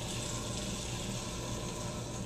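Water squirts from a syringe into a cup in a steady hissing, splashing stream, close and continuous, with no talking.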